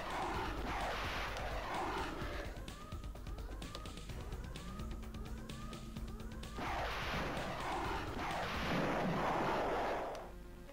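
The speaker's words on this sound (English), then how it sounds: "I haven't seen an Avenger blown away like that since the battle in Draco." A spaceship explodes in the space combat game Ur Quan Masters as loud synthetic blasts and falling electronic sweeps fill the mix, with bursts at the start and near the end.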